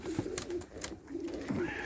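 Pigeons coo softly nearby in a loft, several throaty rolling calls spaced out over a quiet background.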